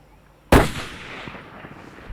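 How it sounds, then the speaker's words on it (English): A rifle shot fired at a bull during a plains game hunt in Botswana's Okavango Delta: one sudden loud close report followed by a long fading rumble and quiet outdoor ambience. "Took the shot, and he went straight down"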